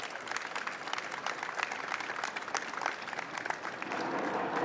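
At a bill-signing event for breast cancer legislation, an audience gives a round of applause, with dense, even clapping filling the whole few seconds without talk.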